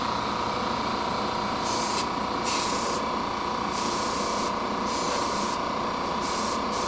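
A spray gun atomises thinned paint in a spray booth, giving a steady, loud continuous hiss that runs unbroken from start to finish with no one talking.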